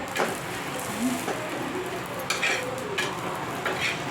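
Rava dosa batter frying on a hot pan, giving a steady close sizzle with faint scraping and clinks of utensils throughout, no speech.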